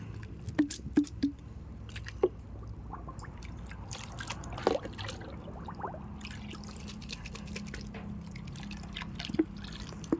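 Water rinsing out a detergent container, with scattered drips, small splashes and trickles over a quiet background, a few sharper knocks standing out, close and soft.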